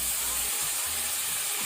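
Tomatoes dropped onto onions frying over medium flame in a pan set off a loud, steady sizzling hiss close up that continues throughout.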